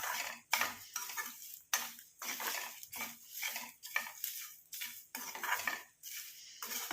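Homemade hair dye ingredients frying and being stirred in a pan, a series of close, rhythmic scraping and clinking strokes about every half second to second with faint sizzle between, no talking.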